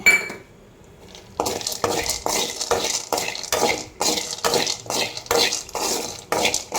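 Roasted peanuts are stirred in a little oil in a kadai, heard as a brief hush followed by a steady, rhythmic run of close metal spatula scrapes and clinks against the pan, about a dozen strokes.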